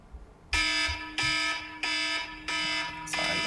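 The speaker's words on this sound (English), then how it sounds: "It's my alarm." An electronic alarm goes off in four loud, even bursts of a harsh buzzing tone, each nearly half a second apart, the last one broken off into a shorter chirp.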